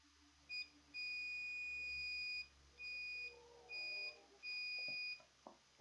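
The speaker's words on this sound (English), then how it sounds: "My multimeter is beeping." A multimeter's high electronic continuity tone beeps in several sustained bursts of uneven length while testing laptop MOSFETs, separated by short gaps, clear and close in a quiet room.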